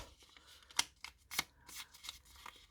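Small pink paper note being folded by hand, a few soft crisp crinkles and sharp paper snaps scattered irregularly, close and quiet.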